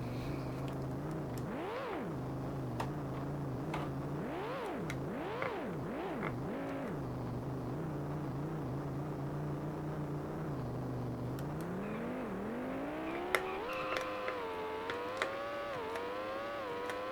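Car engines in a racing video game on an Amiga 2000, a continuous synthetic engine drone that rises and falls in pitch with repeated revs, then climbs steadily as the car accelerates, with no talking.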